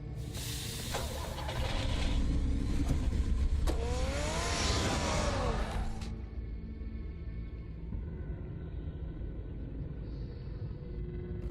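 Batmobile driving in the Batman Telltale game, Episode 5 City of Light: a loud broadband engine roar and rushing hiss for about six seconds, with a whining pitch sweep near the middle, then dropping to a low steady rumble.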